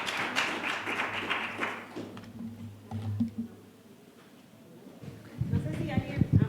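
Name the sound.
applause for the panel members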